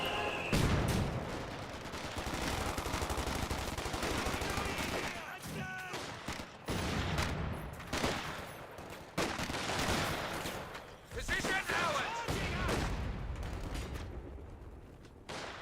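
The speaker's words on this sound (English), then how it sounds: "Sounds like the mortar's firing away." Mortar barrage firing in Company of Heroes 2, a busy battle mix of repeated booms and crackling gunfire rising and falling over several seconds, with a commentator talking over much of it.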